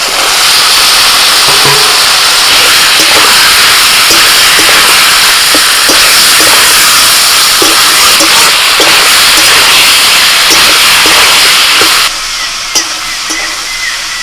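Fried potatoes and kundru cooking in spice paste with prawns give a constant loud hissing sizzle with occasional soft stirring knocks, dropping quieter near the end.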